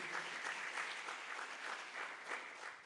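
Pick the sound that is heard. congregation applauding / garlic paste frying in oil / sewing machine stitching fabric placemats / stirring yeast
congregation applauding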